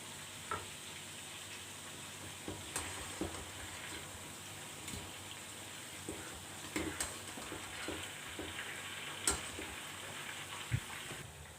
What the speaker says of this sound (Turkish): Şimdi ciğerlerimizi kızartıyoruz.